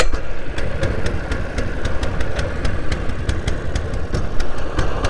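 Small outboard engine on a Pelican Bass Raider 10e fishing boat runs at a steady, close, loud idle with a rapid regular putter.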